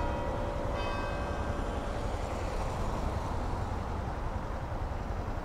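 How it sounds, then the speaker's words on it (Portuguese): A small church bell in Belém sounds a faint, ringing strike in the evening that fades over a couple of seconds beneath a steady wash of street and engine noise. "É o sino, né?"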